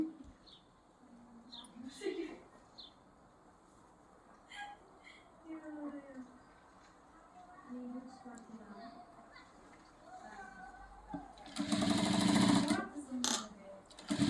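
A sewing machine stitching a puff sleeve bursts into a loud, fast run of stitching for about two seconds after a long stretch of someone talking quietly, then stops.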